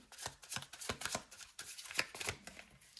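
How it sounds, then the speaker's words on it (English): Tarot cards are shuffled by hand in quick, crisp riffling bursts, several rapid rustling flurries close by, with no voice. "Let me keep shuffling."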